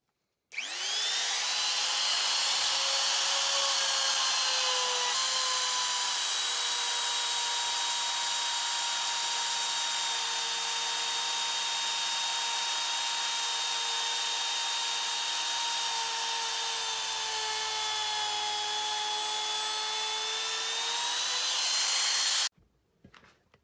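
A Bosch GKF 600 trim router cutting a rebate along the edge of a wooden board starts abruptly and holds a loud, steady high-pitched whine with slight pitch dips as it bites, then switches off and spins down.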